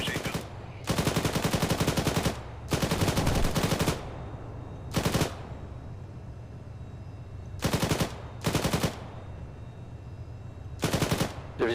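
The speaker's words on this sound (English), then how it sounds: "Engage with machine gun." Machine gun fire in ArmA, a Soviet armoured operation, coming in repeated short bursts of rapid automatic shots, spaced by quiet gaps and fairly distant, with a low background rumble.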